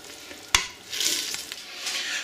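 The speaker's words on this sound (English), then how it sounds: "Also, tomatoes. Give a good stir." Tomatoes are stirred through a frying pan along with salt, garlic and pepper for a pork, cabbage and carrot dish, with a sharp utensil knock followed by soft scraping and a gentle sizzle. Close and quiet, with no talk.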